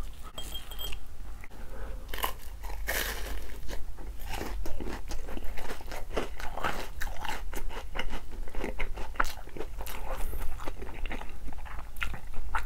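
Crunchy fried shrimp toast (menbosha) being bitten and chewed up close, with a steady run of crisp crunches and mouth sounds and no talking.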